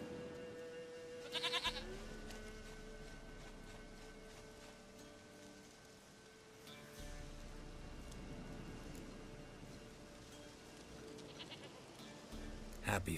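A goat in The Witcher 3 bleats in short wavering cries, heard in a couple of bursts over a quiet game soundscape with soft ambient hum.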